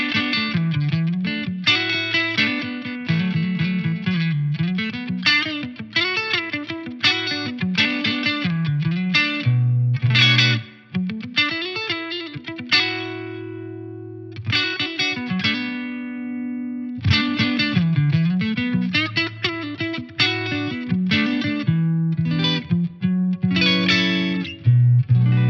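Electric guitar played through the clean 1 channel of a Yamaha DG-1000 preamp with a little reverb, chiming chords and single-note phrases ringing out alone in bright, sustained bursts with short pauses.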